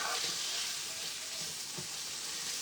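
Ingredients sautéing in a pan for Julia Child's beef bourguignon give a soft, steady sizzle with no talk.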